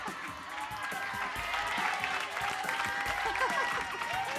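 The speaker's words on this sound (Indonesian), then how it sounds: "Tepuk tangan dong" Studio audience applause on an Indonesian entertainment show, clapping and crowd noise mixed with lively talking and laughter throughout.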